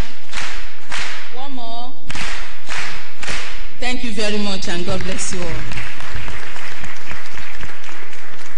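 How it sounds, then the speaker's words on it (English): Audience at a registry summit claps in bursts of loud, sharp applause after a counted cue, someone speaking over it between rounds. "please give yourselves this form of round of applause"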